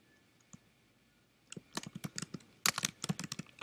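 Keys clack on a computer keyboard in a quick burst of close, crisp taps after a short pause, with uneven rhythm and no talking.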